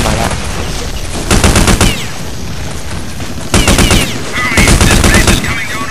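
Automatic gunfire in the video game Counter-Strike, loud rapid bursts of shots separated by short pauses, fired close over a steady background of game ambience.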